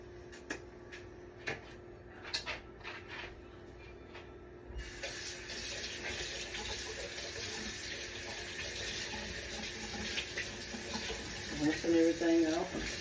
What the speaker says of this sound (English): Rinsing everything out.